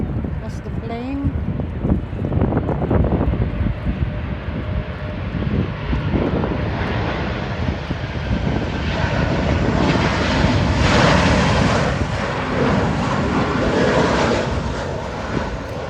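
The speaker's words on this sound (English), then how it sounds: "That's the plane." British Airways jet approaching to land at London City Airport, a broad roaring engine rush that swells steadily louder over sixteen seconds, buffeted by some wind noise on the microphone.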